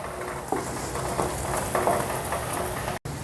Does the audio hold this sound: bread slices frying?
yes